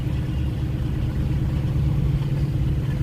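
A small Ford pickup truck drones steadily with a low engine rumble as it tows a semi truck with a blown drive shaft, the sound close and continuous without talk.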